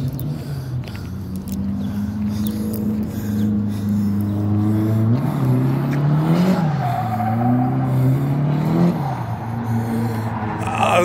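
Car drifting at Lebanon Valley, with sustained tire squeal that rises and falls over a loud engine revving and skidding continuously and close by throughout.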